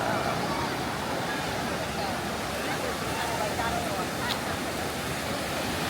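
Cold Atlantic Ocean surf washes along a beach in a continuous broad, hissing rush of breaking waves, steady and fairly soft throughout with no speech.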